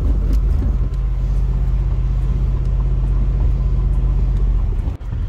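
A Chevrolet Corvette C4 with its roof panel removed drives along, its engine a steady loud low rumble with continuous road and wind noise throughout, no voices.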